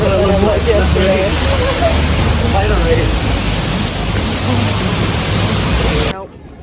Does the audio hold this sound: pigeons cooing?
no